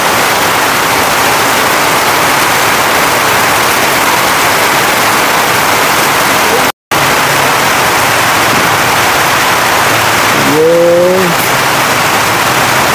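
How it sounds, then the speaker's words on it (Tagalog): A steady, heavy roar of pouring rain during a cycling race in Cacabugaoan fills the whole stretch, loud and unbroken, with a short tonal sweep near the end. "Grabe lakas ng ulan, ha?"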